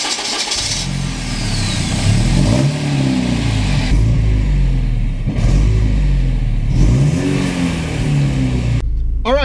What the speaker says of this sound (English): Let me take it for a drive and actually tell you what it feels like to drive this 1980s Porsche Turbo